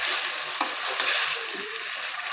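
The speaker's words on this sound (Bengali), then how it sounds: "আমি এখন শাকগুলো দিয়ে দেবো, নেড়ে চেড়ে নেব, খুব ভালো করে নেড়ে চেড়ে নেব।" Taro leaf greens frying in a pan, with a close, loud, continuous sizzle and the soft scrape and knock of stirring running through it.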